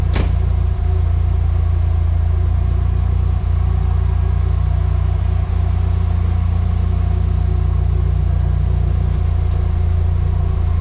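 A Nissan car with a CA18DET engine idles loudly and steadily after its first start of the day, a close, constant deep rumble with a few faint clicks and no talking.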